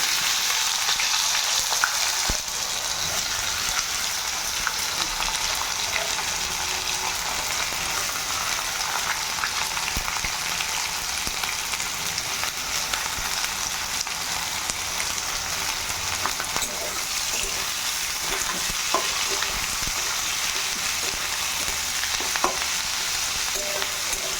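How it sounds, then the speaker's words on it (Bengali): Onions fry in hot oil with blackened tempering spices for chicken curry, a loud, continuous close-up sizzle with occasional scraping stirs and small pops throughout. "ফোড়নটা হয়ে গেছে কালো হয়ে গেছে ধোয়া উঠে গেছে ফোড়ন থেকে তো এবার পেঁয়াজটা দিয়ে দেবো"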